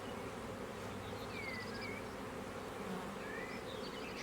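Steady, dense buzzing of many honey bees swarming close by at a gentle colony's hive, with occasional individual bees whining past, no voices.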